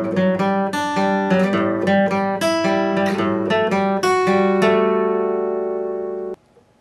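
The full part 4 passage of a song on acoustic guitar at normal tempo, a steady run of picked notes over about six seconds that ends on a sustained ringing chord and then stops abruptly. Close and solo, with no voices.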